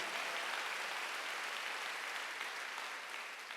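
A church congregation claps steadily and evenly throughout a Wednesday service, a dense wash of applause that fades slightly toward the end.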